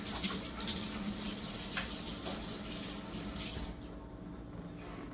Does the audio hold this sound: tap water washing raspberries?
yes